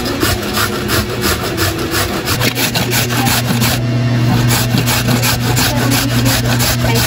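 Green papaya being grated by hand, a continuous, close, fast scraping and rasping with a steady back-and-forth rhythm, loud and without any talk.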